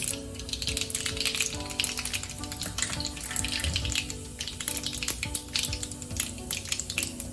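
Cumin seeds sizzling in hot oil for tempering, a steady, close, hissing crackle that runs without pause for several seconds.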